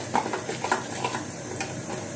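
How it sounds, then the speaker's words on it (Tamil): Scattered small pops and crackles spit irregularly over a steady hiss as mustard seeds and urad dal splutter in hot oil, close by. "கடுகு நல்லா வெடிக்க ஆரம்பிச்சிருச்சு."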